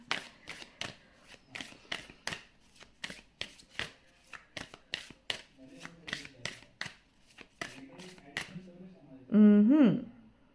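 Tarot cards being shuffled by hand, a run of crisp riffling flicks in steady rhythm close by, ending in a brief louder rustling burst.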